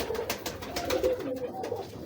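Teddy pigeons of an original old big-breeder strain coo in repeated soft, throaty notes, fairly close, with faint ambient background and no talk.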